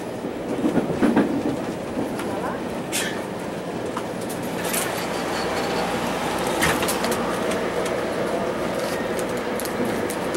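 A Vitória-Minas railway passenger train runs along the track with a steady rumbling roar and rhythmic wheel clatter heard from inside a carriage, with occasional sharp clicks and faint background voices.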